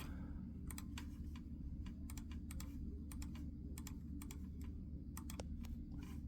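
A computer keyboard clicks through a burst of typing, keys struck in quick irregular clusters with short pauses, close and quiet over a steady low background hum, no voices.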